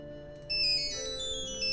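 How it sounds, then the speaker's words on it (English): Electronic cell phone ringtone in a Nancy Drew game, a bright melodic chime that starts partway through and repeats at moderate volume over a quiet background, with no talking. "There goes my cell phone."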